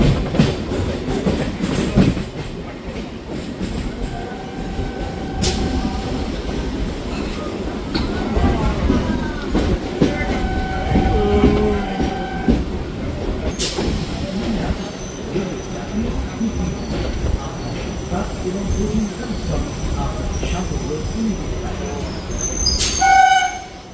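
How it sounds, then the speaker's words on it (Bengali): A local train rolls into Madhyamgram station, steady rumble and clatter of wheels on track with brief whistles and squeals, people talking over it, ending in a sharp squeal. "ট্রেন আমাদের ঢুকছে হলো মধ্যমগ্রাম স্টেশন"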